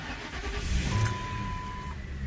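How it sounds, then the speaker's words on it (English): A 2000 Lincoln Town Car engine starts after a fuel pump replacement, with a steady low idle rumble and a faint high whine, moderately quiet and recorded close with no voices. "Car starts."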